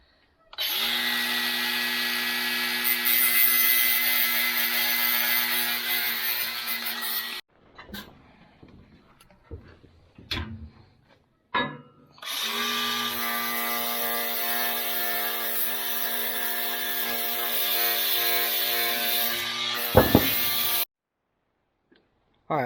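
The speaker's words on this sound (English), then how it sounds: "You going to grind that? Yeah, I'm going to clean it off." An angle grinder cleaning metal before welding runs in two long, loud, steady whining stretches, separated by a quieter gap with clanks and handling noise.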